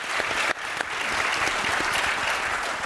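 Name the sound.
audience applause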